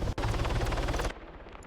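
Dense, continuous automatic gunfire in a military shooter game, loud and sustained for about a second, with a sharp break near the start and a quieter tail afterward.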